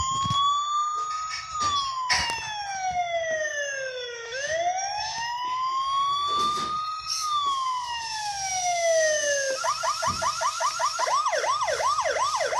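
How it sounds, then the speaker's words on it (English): A loud police siren wails up and down in long sweeps, then switches to a fast yelping pattern near the end, with no talking. "Sounds like a police car."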